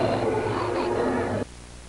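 A false dog's spoof noise: a dense, buzzing, droning blare held steadily at close range for about a second and a half, then cut off abruptly into near silence.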